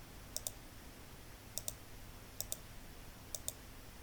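Quiet computer mouse clicks while working in Excel, four pairs of crisp double clicks spaced about a second apart over faint room hiss.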